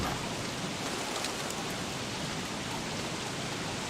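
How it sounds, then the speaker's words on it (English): Steady rainfall in the video game Don't Starve, a dense continuous hiss of falling rain at constant loudness with no talking. "We got a feisty rainy day today."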